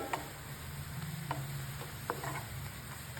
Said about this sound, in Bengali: এখানে আমি সামান্য পরিমাণে একটু ঘি দিয়ে দেবো